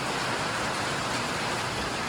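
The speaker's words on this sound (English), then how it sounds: "It wasn't supposed to rain until this afternoon, but as you can hear, it is really coming down." Heavy rain pours down at a horse barn, a dense, steady hiss of drops drumming on surfaces, loud and unbroken throughout with no voices.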